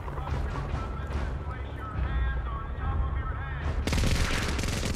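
A minigun firing in an action movie scene, a loud, dense stream of gunfire mixed with other film sound and a voice, breaking into a harsher, brighter blast of fire near the end.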